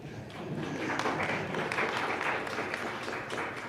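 A closing-ceremony audience at a symposium on social justice and urban transformation claps, a soft, fairly distant and even patter of many hands lasting a few seconds.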